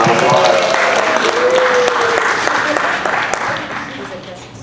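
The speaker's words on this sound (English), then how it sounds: "Can we get a round of applause for the first winner" Crowd applause at an outdoor community walk against gun violence, greeting the first raffle winner; dense, steady clapping that carries loudly through the moment, with voices chattering underneath, then gradually thins and fades toward the end.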